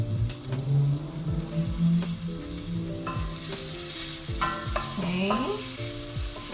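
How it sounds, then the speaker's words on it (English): Garlic frying in a pot, a steady close sizzle under quick stirring, with tonal hum and whine in the background, and one brief spoken word. "Next thing I'm gonna do is put in my garlic."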